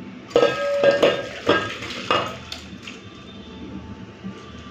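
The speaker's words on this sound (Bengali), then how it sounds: "চলুন, রান্না হয়ে গেছে, ঢেলে নিই" Cooked ridge gourd and prawn thin curry is poured out of a metal pan. A few sharp metallic clanks and scrapes ring out close by, then fade into soft wet sloshing.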